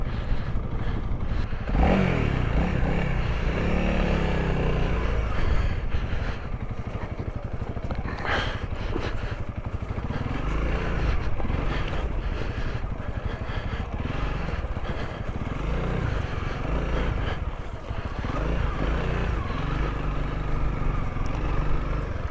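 A Honda CRF300L dual sport motorcycle grinds up a steep rocky trail, its engine droning and revving steadily under continuous clatter and scraping of tyres over loose rocks, close and loud throughout.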